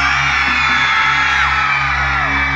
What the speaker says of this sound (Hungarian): Egy óriási sikítást kérek szépen nektek!